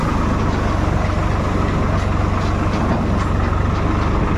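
A tractor engine idles steadily at a farm field, a loud, close, continuous low diesel throb with a regular pulsing rhythm and no talk.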